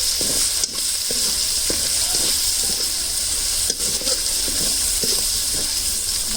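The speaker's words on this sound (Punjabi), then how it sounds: "ਇਹਨਾਂ ਨੂੰ ਪਕਾਵਾਂਗੇ ਸਾਰੇ ਚੰਗੀ ਤਰ੍ਹਾਂ ਮਿਕਸ ਕਰਕੇ" Onion, garlic and tomato masala paste for matar paneer kofta sizzles loudly in oil, a dense continuous frying hiss broken by repeated close scrapes and knocks of a spoon stirring the pan.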